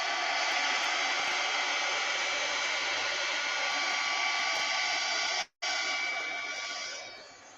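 Hair dryer blowing steadily close by to quick-dry a mixed media piece, a loud continuous hiss that cuts out briefly, resumes, then fades at the end.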